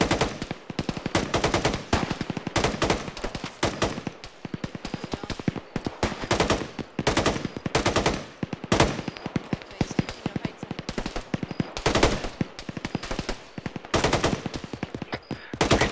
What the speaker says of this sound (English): Keep shooting, Jim